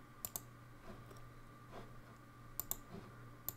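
Sharp computer mouse clicks while working in OnShape CAD software, a few close, quiet clicks in scattered pairs over a low steady hum, with no talking.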